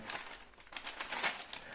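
A plain paper bag crinkling and rustling while it is folded over a potted orchid to wrap it for shipping, a quick run of soft crackles close by.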